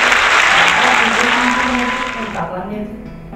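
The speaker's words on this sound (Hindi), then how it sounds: "जोरदार तालियां हो जाए" Loud, dense applause from a live audience at a comedy stand-up show, a steady wash of clapping that tapers off toward the end, with faint voices mixed in underneath.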